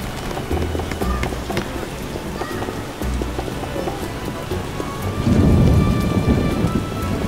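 In The Witcher video game, steady heavy rain pours throughout while thunder rumbles low, swelling into a louder roll near the end.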